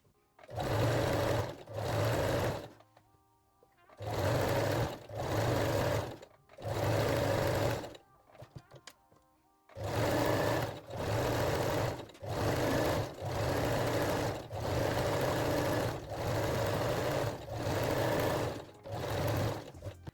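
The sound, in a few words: sewing machine zigzag stitching fold over elastic on waistline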